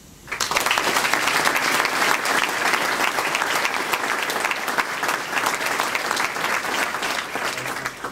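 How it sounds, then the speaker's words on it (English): Audience applause at A Taste of Portugal, a Portuguese community event in Guernsey, a steady, loud wash of many hands clapping that fills the whole stretch without pause or talk. "Please join me again in a round of applause to them."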